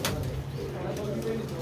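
Pigeons coo softly on Vinayak's rooftop loft, including red Chinese and tailed breeds, a low murmuring coo repeating under steady background noise.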